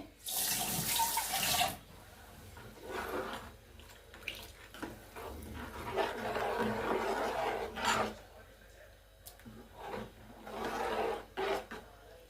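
Water is added to a thick horse gram flour mixture being stirred, with several bursts of trickling water and wet rubbing, scraping stirs close by, separated by quieter pauses.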